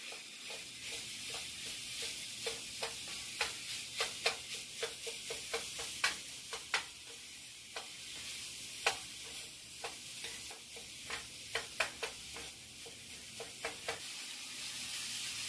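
Sausage browning in a pan for homemade pizza, a quiet steady sizzle broken by many sharp pops and crackles scattered throughout, close with no voices.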